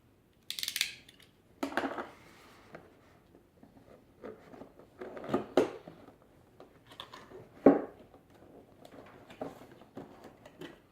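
Close, quiet rustling and tearing of a taped cardboard box holding a collectible figurine, with sharp scrapes and rips of tape in scattered bursts and pauses between.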